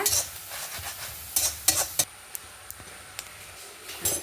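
Spices roasting in a dry pan for a village-style salted jackfruit curry, with coriander going in last, heard as a faint sizzle under sharp, scattered scraping and tapping strokes of a spoon against the pan.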